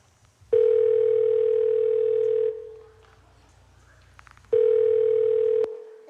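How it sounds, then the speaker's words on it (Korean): A steady telephone ringback tone sounds while a call is placed: two long, loud, even beeps of about two seconds each, separated by a quiet gap, with faint background noise. "예은이한테 전화해봐야겠다"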